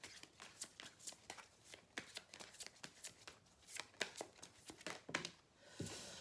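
Oracle cards being shuffled by hand, a rapid, regular run of crisp papery riffles and flicks, close and fairly quiet, with no talking.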